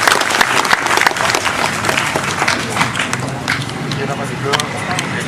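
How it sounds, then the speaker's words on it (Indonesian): An audience at a Kenduri Cinta gathering breaks into loud, sustained applause, sharp individual claps prominent at first, then settling into a steadier, slightly softer roar with crowd noise and voices underneath. "Tepuk tangan untuk Ustaz Wijayanto."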